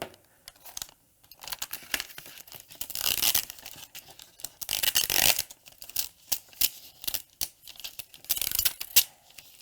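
An infusible ink transfer sheet is peeled off in short crinkly, tearing bursts, close and fairly quiet, with pauses between pulls and no talking.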